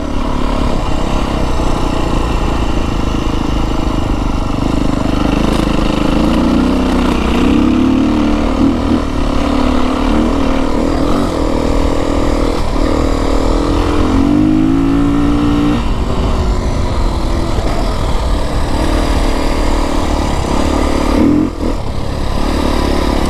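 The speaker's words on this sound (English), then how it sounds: "The FMF Q4 sounds terrific. It's got just enough bark and enough sound to make it sound good" A 2025 Beta 350 RR X-Pro four-stroke dirt bike with an FMF Q4 exhaust runs steadily and loudly throughout, its exhaust note rising and falling with throttle blips and revs, with no voices.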